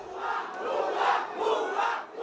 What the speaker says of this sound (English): Huge crowds storming and looting her official residence.